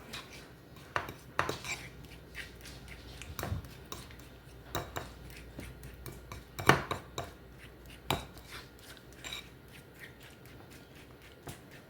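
Garlic butter is stirred in a bowl, a utensil scraping and clinking against the sides in irregular soft taps and a few sharper knocks, close and fairly quiet, with no voices.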